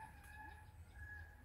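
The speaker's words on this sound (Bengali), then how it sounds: "বাড়ির আঙ্গিনায় কয়েকটি মোরগ হেঁটে বেড়াচ্ছে" Roosters roaming a village home courtyard, with one close, clear crow and a few soft clucks over faint background ambience.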